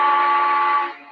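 A model K4s steam locomotive sounds a steady, loud whistle tone for about a second, then tapers off as it ends, with no voices over it.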